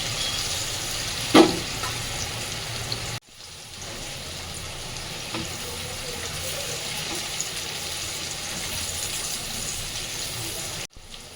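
Shola kochu, sliced taro, frying in a pan, giving a steady low sizzle with a brief sharp clatter near the start, then a softer even sizzle that continues to the end.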